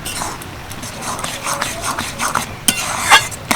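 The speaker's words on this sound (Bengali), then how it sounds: "খন্তি দিয়ে ডাল আমি ভালো করে ঘেঁটে নিয়েছি" A spatula mashing boiled dal in a pot, giving soft irregular scraping and stirring, with a few sharper knocks of metal against the pot near the end.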